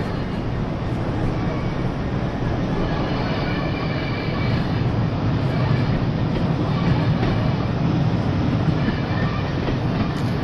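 A Class 47 locomotive hauls a rail tour train in Train Sim World, with steady rolling wheel noise and rhythmic clickety-clack on the rails over a continuous mid-level rumble.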